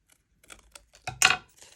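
Scissors snipping through a paper template for a stamp, a few soft close cuts followed by one louder, longer snip, alone with no talking.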